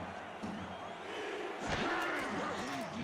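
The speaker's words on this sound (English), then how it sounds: "Florida's crowd getting loud one more time." A Florida stadium crowd at a football game roars in a sustained, loud wall of noise that swells toward the end, with a commentator's voice faintly woven through the din.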